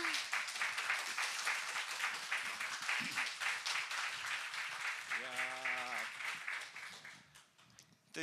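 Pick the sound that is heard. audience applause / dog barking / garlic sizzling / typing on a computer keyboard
audience applause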